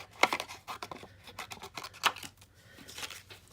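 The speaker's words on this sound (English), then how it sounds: "using my micro tip scissors, and I'm not being really nice about it right now because I haven't started the fussy cut process" Micro tip scissors roughly cut patterned craft paper for card making, a quick run of close, crisp snips and rustles with two sharper cuts standing out.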